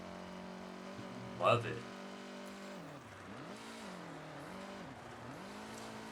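Lancia race car engine in the Forza Horizon racing game, a steady droning engine tone with rising and falling revs and a brief louder burst, heard under a person talking.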